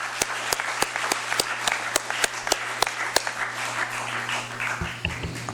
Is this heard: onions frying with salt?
no